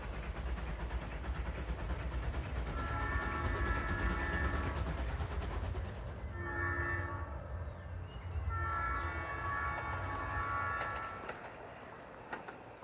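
A small model train in Canadian Pacific livery runs with a steady rolling rumble while its horn sounds several drawn-out blasts in groups, close and moderately loud, with no speech.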